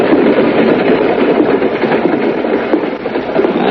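Inside a moving passenger train there is a loud, steady rumble of wheels and carriage, with a rhythmic rattle running underneath and no talking.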